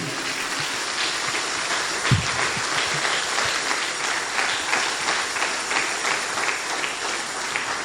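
A church congregation claps together in a dense, steady round of applause that fills the whole stretch. It is loud and continuous, with a brief thump partway through and no clear talking over it.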